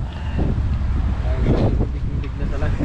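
Steady wind blowing at sea on a fishing trip, a continuous rumbling buffet of wind noise on the microphone, loud and close, with faint voices mixed in underneath.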